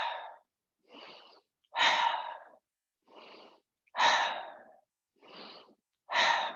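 Slow, deliberate breathing during shoulder shrugs: soft inhales alternate with louder, airy exhales in an even rhythm, close to the microphone and with no talking.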